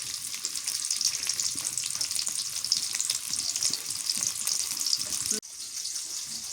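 Onions and green chillies frying in hot oil for a hilsa fish curry, a constant bright crackling sizzle up close that drops briefly near the end and continues more softly.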